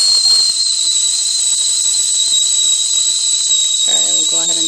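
A stovetop kettle's loud, piercing whistle shrieks continuously at a steady pitch, with a brief voice surfacing underneath near the end.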